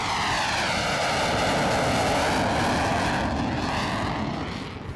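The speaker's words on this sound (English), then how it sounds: "the FA-18 Green Hornet prepares for flight powered by the 50-50 biofuel blend" An F/A-18 Green Hornet jet running on a 50-50 biofuel blend roars steadily and loudly throughout, a dense broadband engine rush with a slowly shifting tone that eases slightly at the end.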